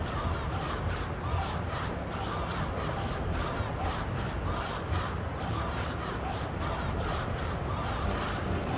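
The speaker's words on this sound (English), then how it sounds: "The crowd is going wild." A large crowd at a blitzball game in a video game roars in a continuous, dense wash of cheering, loud and steady throughout with no distinct voices standing out.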